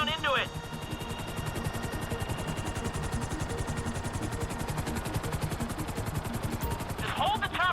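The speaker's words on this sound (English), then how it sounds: "I need you to hold the chopper above it while I take a look." Grand Theft Auto V helicopter hovering in-game, a steady rapid rotor thrum pulsing throughout at moderate volume, with brief bursts of other game sounds at the start and end.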